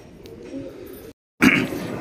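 Pigeons kept by a bird seller coo softly in a brief, low murmur, which breaks into a short silence before resuming louder and closer.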